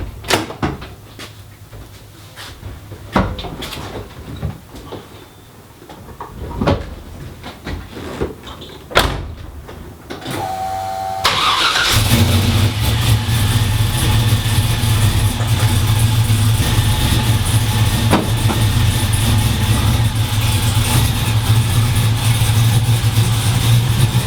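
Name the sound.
car engine starting and idling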